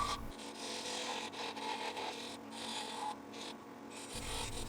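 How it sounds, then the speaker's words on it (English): Flat-end carbide tool smoothing the surface of a small wood segmented egg shape on a miniature segmented vase, giving a steady close scraping rasp that runs without a break, with no voices. "I do like to use a flat end carbide tool to obtain a smooth surface around the egg shape."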